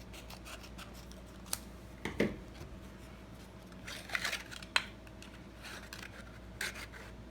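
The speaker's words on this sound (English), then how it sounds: "I may have to trim that cardstock" Cardstock being trimmed for a lemon-themed stamped craft, a few quiet separate snips and rubbing scrapes over a faint hum, close and soft with pauses between cuts.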